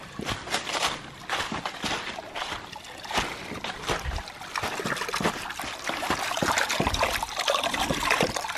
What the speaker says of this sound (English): I just wanted to see this pump cycle